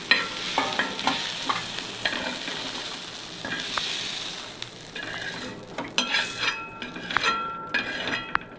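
A steady sizzle of spice paste roasting in a pan, with scraping stirs and occasional clinks of a utensil against metal, close up.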